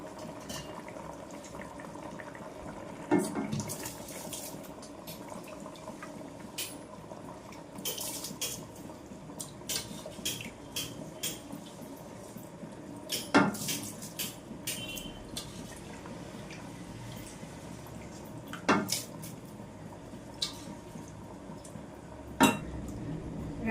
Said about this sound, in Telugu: ఇప్పుడు ఈ రైస్ మనం యాడ్ చేసుకుందాం.